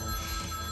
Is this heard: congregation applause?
no